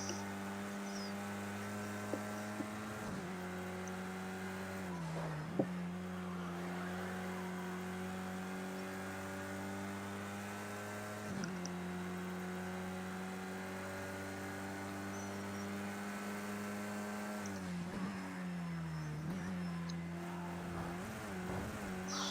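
A race car engine drones through a track race in Project Cars 2, holding a steady buzzing tone that dips and rises at several gear shifts and braking points, with occasional brief tire squeal.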